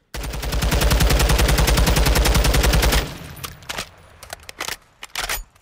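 An MK 16 CQC rifle in Call of Duty Modern Warfare II fires a loud, rapid full-auto burst for about three seconds, followed by scattered clicks and handling clatter.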